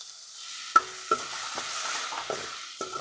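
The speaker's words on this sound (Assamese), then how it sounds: "তেনেকৈ আমি ডিম ভাজি লওঁ" A spatula scrapes and taps against a pan several times over a constant sizzle as an egg fries and gets stirred.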